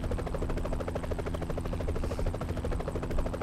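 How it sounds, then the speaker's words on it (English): A helicopter flies in the Roblox game ERLC, a loud, continuous rotor chop with a steady rapid beat and an engine drone that holds close and strong throughout. "So weird, the helicopter."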